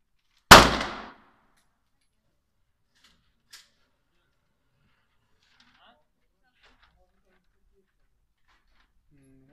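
One loud, sharp shot from a Canik TP9 SFX 9mm pistol cracks close by and decays quickly, followed by a tiny faint click and near silence for the rest of the clip.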